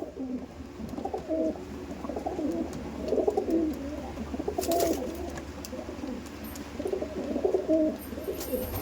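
Giribaz pigeons coo steadily in a low, overlapping chorus, several birds murmuring at once with rising and falling phrases, fairly close, over a constant background hum.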